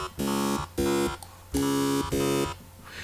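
Additive synthesizer tone generated without phase randomness: four sustained buzzy harmonic notes in a short sequence, each steady and fairly loud with brief gaps between, no voices.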